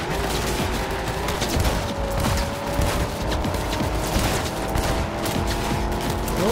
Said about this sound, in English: Here comes the hand cannon.